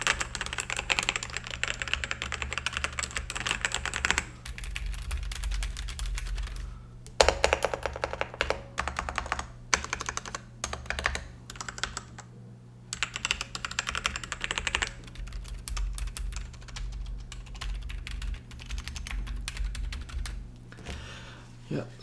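Rapid typing on a mechanical keyboard sitting on a Kilmat sound-dampening mat, a dense run of clicky keystrokes with brief pauses, close and steady over a low background hum.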